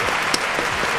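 Brief applause for a mother during a hip hop interview, a full wash of clapping from several people lasting about a second.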